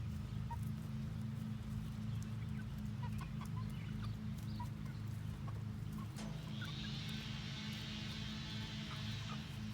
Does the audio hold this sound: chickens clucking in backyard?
yes